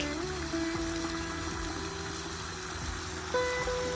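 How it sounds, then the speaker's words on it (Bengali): Water gushes steadily from a shallow tube-well pipe in a potato field, a constant loud rushing flow with a low pump-like hum underneath, no talking. "জলগুলো কি সুন্দর বেরোচ্ছে"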